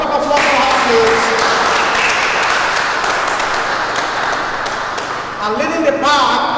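Loud audience applause, dense continuous clapping sustained throughout, with a voice briefly speaking over it near the end.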